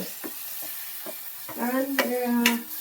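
Salted, chopped leaves go into a hot pan with chili powder and hiss loudly, rising after a few clicks of stirring; a brief voice murmur is in the background.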